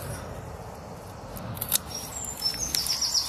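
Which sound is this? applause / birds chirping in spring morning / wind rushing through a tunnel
birds chirping in spring morning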